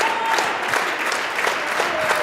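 A pro wrestling crowd roars and claps as a wrestler makes a comeback, a steady wash of cheering and applause.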